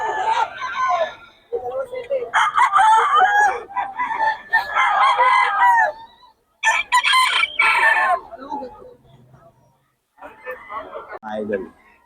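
A fighting stag rooster crows loudly several times up close at a cockfighting-bird sale in Bocaue, with clucking between calls and people talking nearby.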